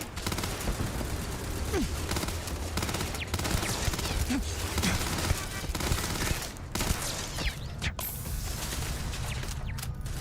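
Sustained turret gunfire in the video game Starfield, dense rapid bursts that keep going almost without a break, loud and close, with a few brief gaps.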